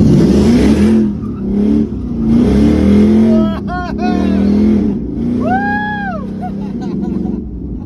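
A car accelerates hard with rising and falling engine revs, strong and close, while people inside talk excitedly over it and tyre squeal chirps briefly.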